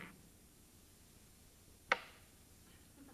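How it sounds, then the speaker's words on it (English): A single sharp knock of a coin striking beneath a table during a coin-through-the-table magic trick, one isolated tap standing out against a quiet room. "That was the sound of 1 coin going through the table and joining the little die."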